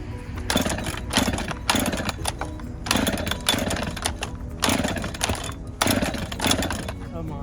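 A chainsaw with a broken pull cord is cranked repeatedly, giving a rhythmic series of about seven rasping bursts roughly once per second without catching, close and loud.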